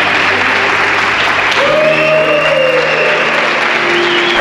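Applause greeting hotel guests checking in at the lobby of Planet Hollywood Cancún, a steady wash of clapping throughout with a rising tonal sound sweeping through the middle.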